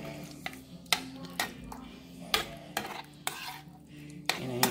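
A spoon stirs shrimp cream sauce made with butter in a pan, giving a soft squishy sizzle broken by repeated sharp scrapes and clinks against the pan, close and alone.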